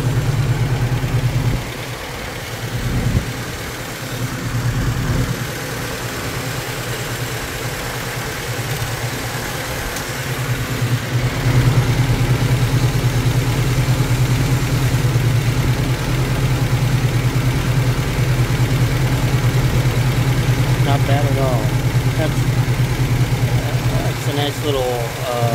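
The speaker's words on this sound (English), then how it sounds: "Exhaust isn't connected to anything. It's idling pretty strong. Like nice and smooth." A 1986 Nissan D21 pickup engine idles smoothly and steadily with its exhaust disconnected, a loud continuous low rumble throughout, with a voice talking over it.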